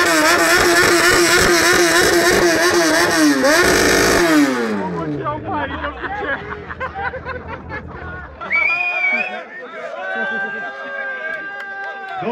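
A voice imitates a motorcycle engine revving, a loud buzzing drone that rises and falls for several seconds. Speech and laughter follow.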